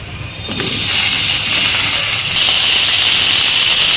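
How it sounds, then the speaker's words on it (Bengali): Jackfruit pieces hit hot mustard oil with a sudden loud hiss that holds steady and bright, a strong continuous sizzle close by with no talking. "বাকি এঁচুড়টা ভাজার জন্য আবারও সরষের তেল দিয়ে দিলাম"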